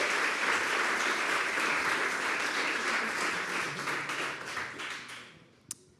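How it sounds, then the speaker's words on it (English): An audience at a product demo day applauds the technical team, dense sustained clapping from many hands that fades out over the last second, ending with one sharp tap. "Please, a huge applause for the technical team as well."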